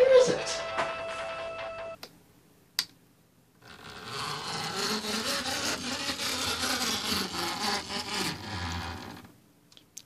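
An O-gauge model train rolls along its track with a rattly, clattering rumble that builds, holds steady for several seconds and then fades, after brief knocks and a short voice at the start.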